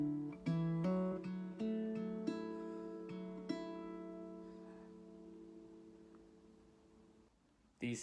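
Acoustic guitar fingerpicking a chord pattern with a quick hammer-on, plucked notes ringing clearly and decaying over several seconds before a final strum, played alone up close.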